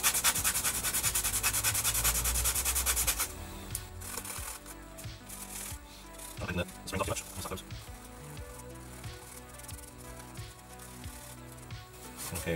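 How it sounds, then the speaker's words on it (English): A wet and dry sanding block scuffs across the back of a Game Boy DMG shell, starting with a loud, continuous hiss and then settling into shorter rubbing strokes that repeat at close range. "I might even use a little bit of wet and dry on them, just to give them a good little bit of a sand"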